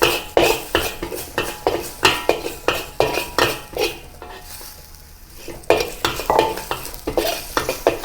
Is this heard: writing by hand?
no